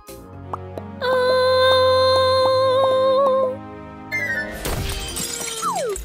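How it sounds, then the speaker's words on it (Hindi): A clock breaks with a sharp shattering crash in an animated cartoon, the clattering burst arriving right after a sustained musical tone and fading into scattered debris and a falling whistle. "ये मैंने क्या कर दिया? घड़ी टूट गई है।"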